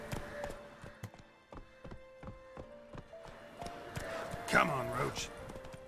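Roach, the horse in The Witcher 3, gallops with a quick run of rhythmic hoofbeats and a brief snort or whinny near the end, while someone speaks over the hooves.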